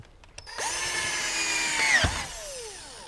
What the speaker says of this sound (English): Now all we have to do is to get our drill